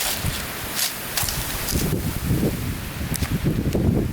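Outdoor wind buffets the microphone in gusty, uneven bursts, with rustling and scattered handling or footstep-like noises close by, no talk heard.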